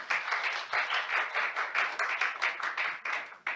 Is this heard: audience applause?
yes